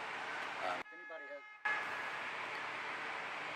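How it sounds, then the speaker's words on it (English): Steady street traffic roars close by, cut briefly by a drop-out where someone speaks, with a long car horn toot sounding out through the noise. "Sorry about the traffic noise."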